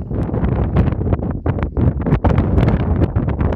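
Strong desert wind buffets a phone microphone, producing loud, rough, gusting rumbles that surge and dip without pause.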